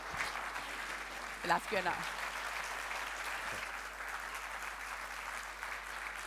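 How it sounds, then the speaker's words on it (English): Warm applause from a conference audience after a talk, a steady, moderately faint crowd clapping that runs the whole stretch, with a brief spoken phrase from the host near the start. "A warm round of applause."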